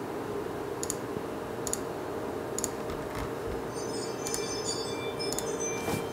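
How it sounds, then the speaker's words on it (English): Mouse right-clicks on a computer during embroidery digitizing software work, several sharp isolated clicks spaced about a second apart over a steady room hum, no talking. "So let's keep on right clicking."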